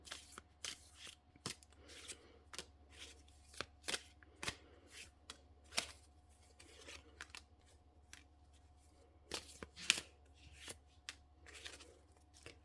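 A deck of tarot cards is shuffled close by in soft, irregular riffles and sharp snaps, quiet and unhurried with brief pauses between shuffles.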